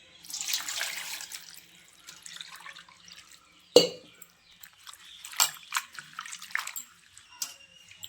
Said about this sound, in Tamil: இதை நம்ம நல்லா அலசி எடுத்துக்கலாம்.